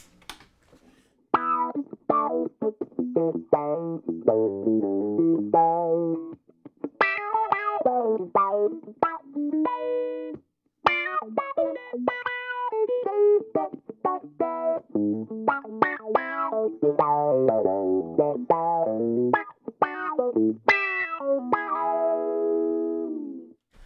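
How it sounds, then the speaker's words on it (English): An electric guitar plays phrases through a TWA Wah Rocker wah pedal, its tone opening and closing with a quacky, vocal character, loud with short gaps. "we pretty much nailed the original wah rocker sounds with the new TWA version"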